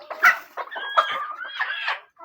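Laying hens at their laying boxes on a poultry farm cluck and cackle close by in a busy run of irregular calls, some of them longer and rising, with no talking.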